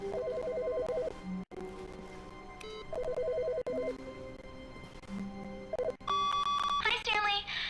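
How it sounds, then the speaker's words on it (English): Telephone in the video game The Stanley Parable rings in repeated electronic trilling bursts separated by short pauses, with a person talking in between and over it. "Whose phone is ringing?"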